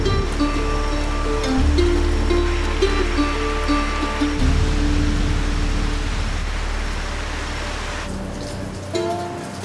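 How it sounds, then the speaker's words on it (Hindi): Steady heavy rain hiss fills the Kedar valley, broad and continuous, with a low rumble beneath and a few faint tonal hums mixed in. "भयंकर वाली बारिश हो रही है।"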